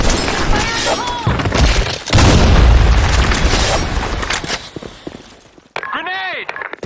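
A video-game grenade goes off with a loud, deep boom that rolls on for a few seconds amid gunfire and shouting voices, then a quieter stretch and a burst of warbling radio-like chatter.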